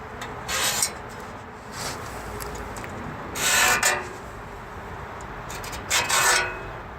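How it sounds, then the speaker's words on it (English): A scribe pen scratches marks onto the steel of a DIY hitch carrier receiver being prepared for welding, giving three distinct close, raspy scraping strokes separated by quieter pauses. "It's just a pen that's made for scratching steel, and I'm going to go ahead and scratch the area that I need to clean off"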